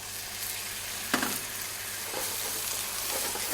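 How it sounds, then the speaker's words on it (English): Dry white wine poured into a hot pan of seafood, a steady bright sizzle and crackle of frying with a sharp burst as the liquid hits, close and continuous. "So we can add now our white wine, the dry white wine."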